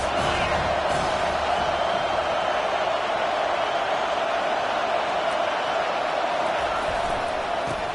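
A steady, dense roar from a stadium crowd in an NCAA college football video game during Utah vs Colorado, holding level and unbroken with no clear peaks from start to finish.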